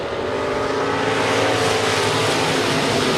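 Stock cars racing in a final heat at US 30 Speedway, a dense continuous roar of several engines at full throttle, loud and steady with no pauses.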